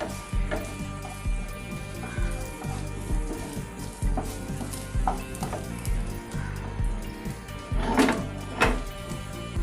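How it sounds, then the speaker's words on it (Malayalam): Coriander and chili spice powders sauté in hot oil in a pan, a steady close sizzle broken by repeated scrapes and clicks of stirring throughout. "നമുക്ക് ഈ എണ്ണയിലോട്ട് നമ്മുടെ മസാല പൊടികളൊന്ന് വഴറ്റി കൊടുക്കാം"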